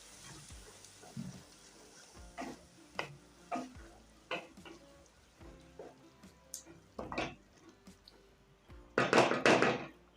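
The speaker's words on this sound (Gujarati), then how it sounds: "આપણે આ ખમણેલું છે સિરપ બધાની અંદર નાખી દઈશું હવે આને એકવાર સરસ રીતે મિક્સ કરી લેશું" Grated tomatoes being stirred into a cooking ivy gourd (tindora) curry in a pan, heard as scattered scrapes and utensil knocks against the pot, growing louder and denser with a burst of clattering near the end.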